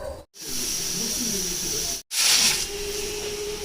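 A loud, steady hiss of steam escaping under pressure from a pressure cooker after cooking carrot payasa, broken by two brief silent gaps, with a stronger burst after the second gap.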